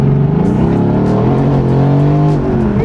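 A Mercedes-AMG revs hard on cold tires, its loud, sustained engine note rising and falling with throttle as the wheels spin, close and continuous throughout.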